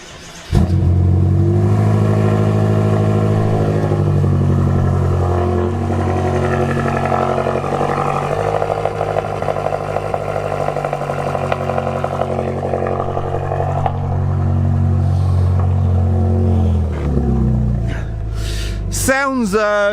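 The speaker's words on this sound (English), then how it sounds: "So, engine start. Let's have a little listen, yeah?" A BMW F10 M5 starts up and settles into a steady, loud idle, a deep continuous engine rumble that runs on evenly before ending with a short burst of other noise at the close.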